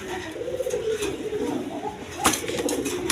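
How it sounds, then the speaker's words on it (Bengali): A pair of white Bombay pigeons, one female and one male, coo at a pigeon farm. Low, soft rolling coos repeat through the clip. A brief rustle stands out near the end. "এখানে এক পেয়ার সাদা বোম্বাই কবুতর আছে।"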